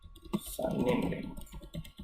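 Mouse clicks on a computer while a web browser account is set up, a few quick clicks over a steady background hum with a voice talking.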